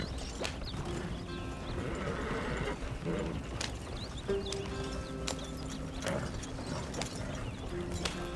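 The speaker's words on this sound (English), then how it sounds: "Tá tentando dar ré com o cavalo." A horse in Red Dead Redemption 2 whinnies and snorts while its hooves clop and shuffle, mixed with creaking tack and ambient game sounds at moderate level, with no talk.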